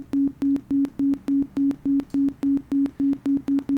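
An amplitude-modulated synth tone switching abruptly between full and minimal level, giving a steady chain of about fifteen square-edged pulses with a sharp click at every jump.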